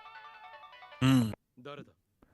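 Phone ringtone in the visual novel Steins;Gate Re:Boot, a steady electronic tone repeating for about a second before a loud burst of voice cuts in, followed by brief talk.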